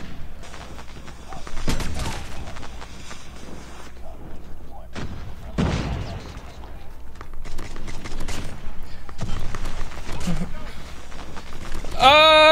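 SKS rifle shots in COD Mobile, a close multiplayer match: sharp reports in irregular bursts at mid loudness, mixed with game effects, with a voice talking over much of it.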